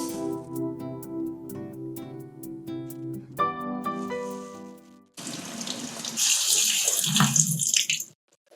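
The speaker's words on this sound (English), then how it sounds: "Begin by rinsing 1 cup of yellow lentils under cold water." Soft music plays at first, then a cold tap runs steadily with water splashing and rustling as yellow lentils are rinsed, close and continuous.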